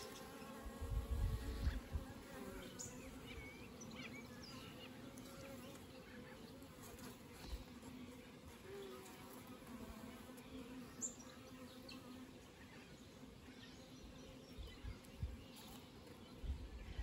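Honey bees hum steadily on a hive comb as the frames are searched for a queen, a continuous close drone with occasional low bumps and handling knocks, faint birds in the background.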